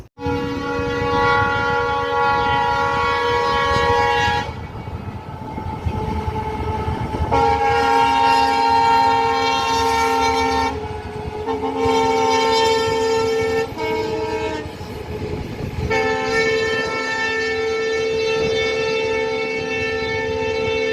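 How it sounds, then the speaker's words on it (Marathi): A freight (goods) train rumbles past nearby, its horn sounding in several long, loud blasts separated by short breaks. "इथं रेल्वे चालली बघा"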